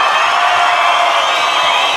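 An outdoor concert audience at a sheep-shearing festival in Beytüşşebap bursts into applause, dense and loud clapping that holds steady for the whole stretch.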